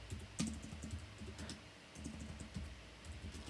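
Soft, rapid typing on a computer keyboard, with key clicks in uneven bursts at a quiet, close level and no talk over them.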